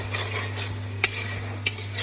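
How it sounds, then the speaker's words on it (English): Ginger garlic paste hits a hot pan for mutton laal maas, giving a steady close sizzle under a constant low hum, with two sharp clinks of a spoon against the pan as it is stirred. "There, the ginger garlic paste has gone in now."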